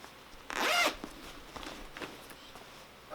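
A single quick zipper pull on a bag's back compartment, a bright rasping stroke lasting under half a second, close up, followed by faint handling rustles and no talk.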